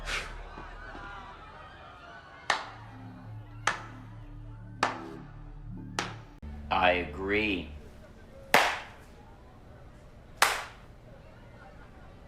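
A slow clap in a sci-fi action comedy scene: single sharp claps spaced a second or more apart, with music and a short spoken exchange in between.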